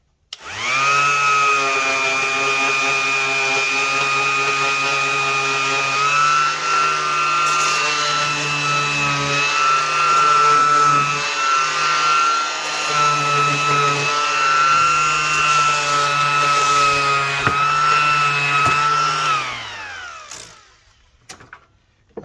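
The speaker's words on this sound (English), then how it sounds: "I just want to ease the edges over, sand that nice" A power sander easing the edges of a wooden table made from used materials, a loud steady whine running close and continuous for about twenty seconds before spinning down at the end.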